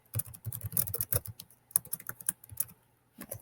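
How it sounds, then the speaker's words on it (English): Rapid typing on a computer keyboard, close and clear, with irregular bursts of key clicks and short pauses between runs of keystrokes. "type in some questions"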